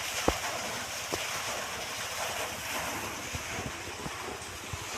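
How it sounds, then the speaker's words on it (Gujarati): Water pours steadily into a farm well from a pumping machine, making a constant rushing wash with a few soft knocks, all mixed with wind buffeting the microphone. "જો પાણી જાય છે કૂવામાં"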